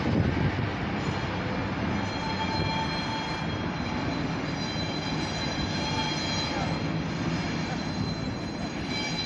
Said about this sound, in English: assemble on that train, the OC&T Alco 75